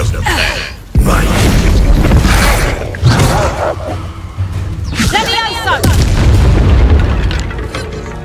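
A Bombarda blasting spell explodes in Hogwarts Legacy, a loud booming blast with whooshing bursts layered over continuous game sound, with a voice speaking over the action.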